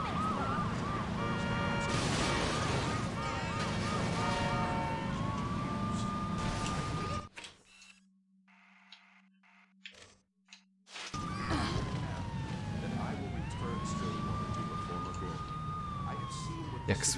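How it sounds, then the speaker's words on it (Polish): Police siren in the Saints Row video game, wailing loudly over game sounds and background music, cutting out briefly midway before sweeping up again and continuing to the end. "Jak słyszę w ogóle tą syrenę,"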